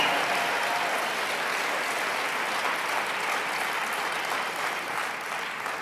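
Sustained applause from a large audience at a network marketing seminar, a thick even wash of clapping that holds steady and tapers slightly at the end.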